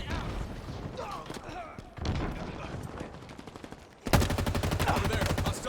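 Gunfire in a video game, a dense run of shots and bursts that ends in a loud rapid machine-gun volley, with a voice speaking over the action.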